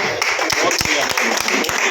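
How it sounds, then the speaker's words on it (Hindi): Audience applause at a Working Journalists of India meeting in Karnal, a dense, steady patter of many hands clapping throughout, fairly loud and close, with sharp individual claps standing out. "ताली एक बार जरूर बजा दें सब।"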